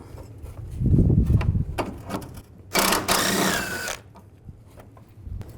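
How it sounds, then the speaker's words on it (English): A socket wrench works 10mm radiator bolts loose on a 2005-15 Nissan Xterra, with close ratcheting clicks and rattles, then a dense buzzing burst of ratchet spinning lasting about a second, all without talk. "Use a 10mm socket. Take those bolts out."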